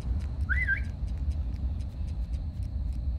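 A character in the farming video game Dinkum whistles a short rising-and-falling tune, one brief whistle early on, heard over a low rumbling game ambience and faint repeated ticks.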